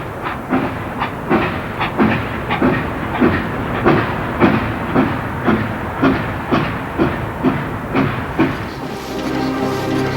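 A train rolls along the tracks with a steady, rhythmic clickety-clack and a hissing undertone, loud and close throughout.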